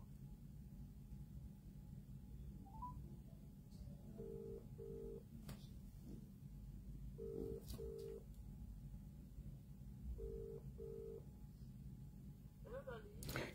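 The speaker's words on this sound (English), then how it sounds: "This is the Vodafone voicemail service." Vodafone voicemail service telephone tones: repeated pairs of short electronic beeps sound at regular intervals over a steady low hum and background noise, fairly faint throughout.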